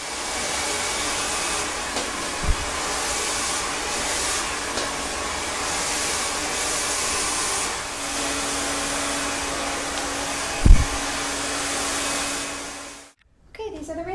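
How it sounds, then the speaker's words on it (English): A hair dryer blows steadily while hair is blow-dried after a long layered haircut, a continuous close whooshing hum that runs for over twelve seconds before cutting off abruptly. "now I'm just going to blow dry it"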